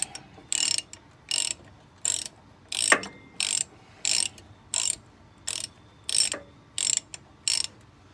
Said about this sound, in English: last nut on the lower control arm. I'll finally get that thing out from under here.